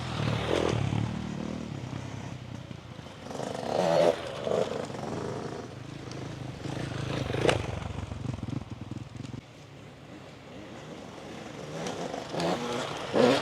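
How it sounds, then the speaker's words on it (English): A motocross dirt bike is ridden off-road over rocks, its engine rising and falling in short throttle blips amid rattling and clatter, at moderate distance and fairly faint. "He's adding a little bit of throttle and actually jumping over a little pit of rocks right here."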